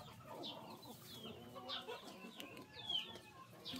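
Chickens cluck repeatedly in a farmyard during breeding season, a steady jumble of close and farther hen calls with an occasional rooster-like note, no talk.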